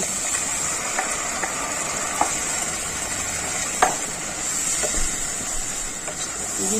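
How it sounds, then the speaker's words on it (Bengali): Tadka masala being stirred into a hot frying pan for egg tarka, giving a steady loud sizzle and hiss with a few sharp spoon scrapes scattered through, no talking. "আমার কষানো হয়ে গেছে, আমি একটু তড়কা মশলা দিয়ে দেব। দিয়ে একবার নাড়াচাড়া করে দেব।"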